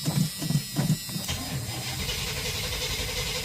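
An old truck engine is cold started after sitting untried, cranking in several uneven chugs before it catches and settles into a steady, rough mid-pitched idle close by.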